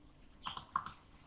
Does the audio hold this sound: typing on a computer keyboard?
yes